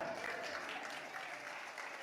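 Applause in a church service, a steady wash of clapping from a congregation that carries on evenly and sounds somewhat distant and soft.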